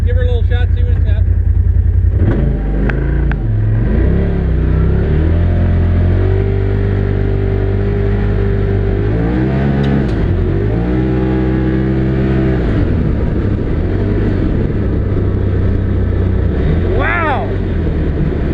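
A 2022 Polaris Pro XP Turbo side-by-side with Rockford Fosgate audio revs loudly up close, engine pitch climbing and falling in repeated surges over a steady idle, with people talking over it.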